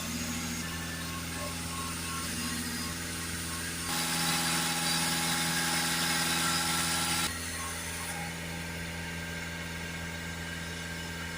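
An Audi A6 2.0 TDI diesel engine runs steadily with a constant hum and vibration, rising in intensity midway as revs are held higher at about 2500 RPM, then settling back down.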